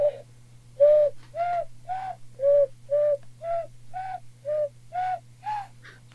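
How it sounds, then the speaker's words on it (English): A run of hand whistles forms a tune, made by cupping the hands and blowing to get breathy, hooting, dove-like tones. It comes as about a dozen short, evenly spaced notes close to the listener over a low steady hum. "so I can whistle with my hands like this"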